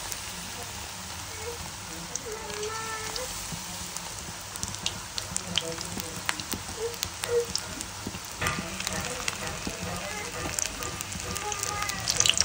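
Egg pieces slipped one at a time into hot oil, frying with a steady crackling sizzle and bursts of popping, close and continuous while a voice talks over it now and then.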